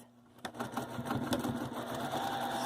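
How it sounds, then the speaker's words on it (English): A sewing machine runs a seam along a separating zipper at regular stitch length, starting after a brief quiet moment and then whirring steadily and close at a moderate level to the end. "I'm going to stitch it with approximately a 1/2 inch seam allowance"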